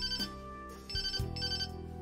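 A flip phone rings in the Persona 5 Royal video game, a short electronic ringtone repeating in quick bursts, faint and alone over a soft game background.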